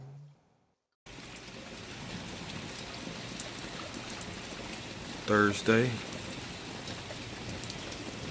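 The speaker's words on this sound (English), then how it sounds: "A little rainy day." Steady rain falling on a day in Florida, an even close hiss throughout, with a brief spoken word partway through.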